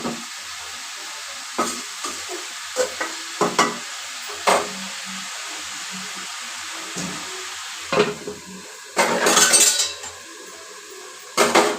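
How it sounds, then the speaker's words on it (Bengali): Eggs frying in a hot wok alongside raw pumpkin with panch phoron, heard as scattered clinks and scrapes of a utensil followed by a louder sizzling burst near the end. "কড়াইটা ভালো করে গরম হলে আমি ডিমটা ছেড়ে দেবো।"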